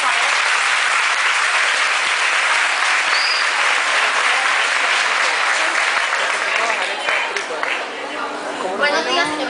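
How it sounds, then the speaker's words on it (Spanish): Sustained audience applause at a school event welcoming guest writers on an institutional television program, loud and continuous, thinning toward the end as scattered crowd chatter and voices emerge. "Un aplauso, por favor."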